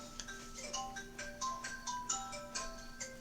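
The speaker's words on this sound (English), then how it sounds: "Oh, the phone's ringing." A phone ringtone plays a cheerful, tinkly electronic melody of short bright notes over a steady hum, fairly quiet and with no talking.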